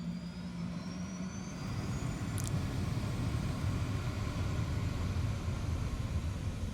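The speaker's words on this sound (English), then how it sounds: "Start the jet." A jet engine in the War Thunder game spools up slowly, a steady broadband roar that builds and holds loud throughout, with a brief high whine near the middle.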